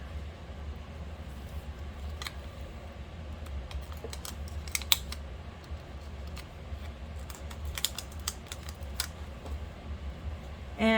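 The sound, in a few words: air conditioning running in background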